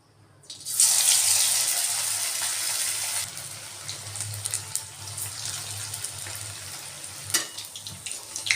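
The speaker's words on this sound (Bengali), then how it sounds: "দেখুন বন্ধুরা তেলটা বেশ গরম হয়ে গেছে এখন আমি একে একে বড়াগুলো সব দেব" Chicken balls (pakora) drop into hot oil, starting a loud burst of hissing and sizzling that eases into a steady frying crackle with scattered pops.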